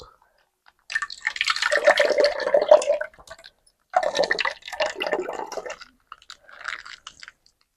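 Ice water is poured from a vessel onto a packet of curd to make lassi, heard as three close bursts of splashing, gurgling pouring separated by short silences.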